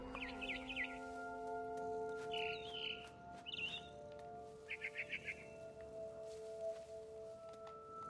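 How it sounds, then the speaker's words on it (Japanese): A barn swallow chirps outside a window in the video game What Remains of Edith Finch: several short bursts of quick, high twittering, spaced apart over a faint background hum. "Then I heard chirping outside my window."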